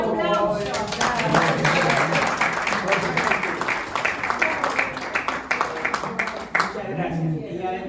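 Audience applause at a Rotary Club talk on the Polio Plus programme, a steady dense patter of many hands lasting several seconds, with voices mixed in underneath, before trailing off near the end.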